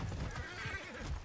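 A horse in Red Dead Redemption 2 gives a short whinnying neigh with clip-clopping hooves, brief and fairly faint.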